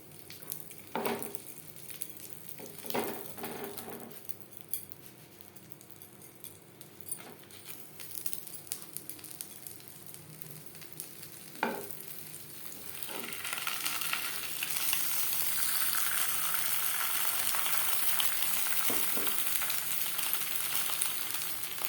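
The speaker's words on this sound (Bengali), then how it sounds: "পাতুরি ভাজবার জন্য ফ্রাই প্যানে দিয়ে দিয়েছি এক চামচ সর্ষার তেল এবার দিয়ে দেবো পাতুরি" Jackfruit paturi sizzles in a spoonful of mustard oil in a frying pan, quiet scattered pops and stirring clicks at first, then a louder, steady frying hiss builds and holds to the end.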